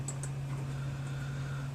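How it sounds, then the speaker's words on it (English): Sparse one-handed typing on a computer keyboard produces a few faint, scattered key clicks over a steady low electrical hum. "I'm typing one-handed right now"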